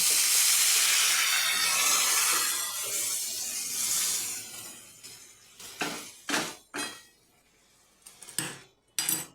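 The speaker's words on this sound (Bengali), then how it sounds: "এবার আমি ডালটা ঢেলে দেব সেদ্ধ করা মটর ডালটা" Boiled matar dal hits a hot pan with black pepper in a loud, close sizzling hiss that slowly fades, followed by several sharp clinks of a utensil against the pan.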